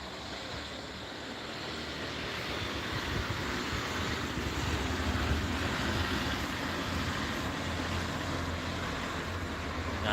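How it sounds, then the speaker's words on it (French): A tractor passes by outdoors at La Réole, a steady low engine rumble and broad roar that swells slightly and holds throughout with no talking. "Il y a un tracteur qui passe là."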